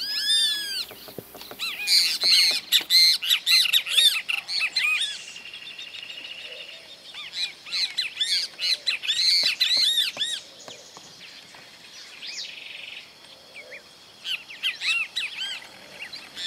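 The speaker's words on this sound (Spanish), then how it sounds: "El amarillo en la parte ventral destaca el venteveo." A great kiskadee, the yellow-bellied flycatcher, calls repeatedly outdoors in Argentina, giving loud, sharp bursts of chirping phrases separated by short pauses, with softer bird chatter behind and no voices.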